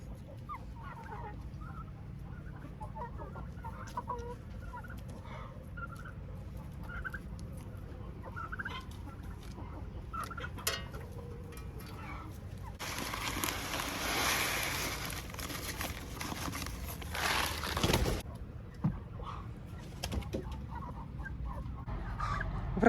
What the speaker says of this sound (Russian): мне надо, чтобы здесь индюшки и курочки хорошо кушали